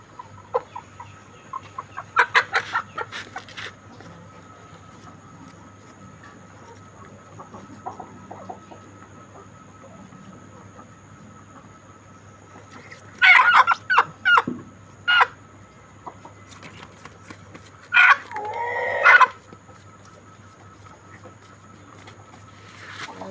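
Layer hens, two of them paralysed, cluck in short close bursts separated by quiet stretches, over a steady low electrical hum.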